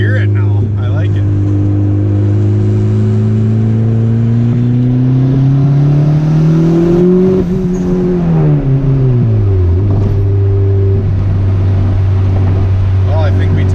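A turbocharged Honda Civic GSR EG with no muffler, running loud and close with a steady low drone that climbs through a rev, holds, then drops back to idle, with people talking over it.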